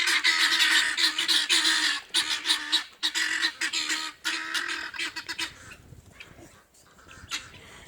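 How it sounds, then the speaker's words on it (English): Guinea fowl call noisily near a chicken coop, a loud, harsh chorus of rapid repeated cackles that runs for several seconds before thinning to scattered cries. "the other guineas are on the outside of the fence, so these guys are making noise for them"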